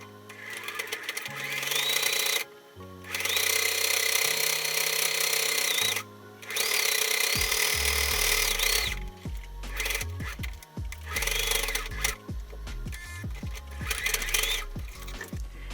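Sewing machine stitching fabric for a pet Christmas ruffle collar, running in loud sustained bursts with short pauses between them, close to the mic, and no talk over it.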